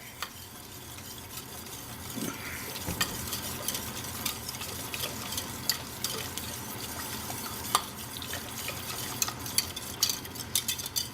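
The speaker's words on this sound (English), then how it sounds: "Whisk all this together." Steady scraping and swishing of a whisk stirring BBQ sauce in a metal pot, continuous and close, with occasional clinks against the sides.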